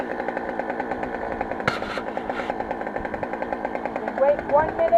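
A Poulan 262 Pro chainsaw runs nearby with a fast, rattling two-stroke idle, a brief sharp clatter partway through and a short voice near the end.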